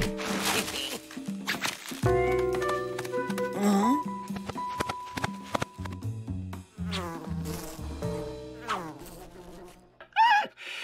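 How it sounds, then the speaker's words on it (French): Buzzing bees trapped inside sacks drone and whine in changing pitches, close by and muffled, mixed with rustling and a few scattered knocks. "Ces abeilles se sont enfermées dans ces sacs."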